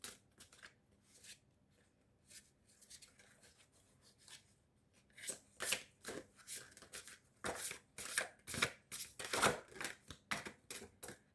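Cards being shuffled for a tarot-style reading, a soft riffling start that builds into a run of brisk, close papery snaps and rustles with no talking.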